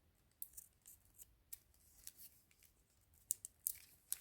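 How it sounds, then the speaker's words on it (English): Scissors snip through the plastic packaging of a new Coach Large Rowan handbag, a string of short, crisp cuts and rustles at close range, faint overall, with no talking. "I'll go ahead and cut it. Let's cut it from this side, just in case."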